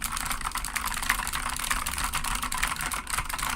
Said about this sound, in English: It's a very clicky keyboard, but like you guys can hear when I actually start typing on it